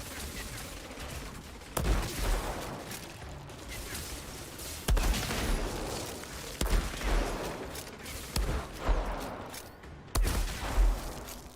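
Repeated gunfire bursts in the video game Outriders, a series of sharp loud volleys every couple of seconds over a constant background of game noise.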